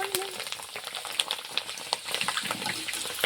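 Water splashes and gushes close by with sizzling, bubbling textures and small clinks, loud and continuous for a few seconds.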